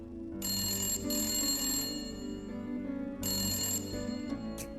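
A telephone rings repeatedly in bursts, its electronic bell sounding over and over without being picked up, fairly loud and close.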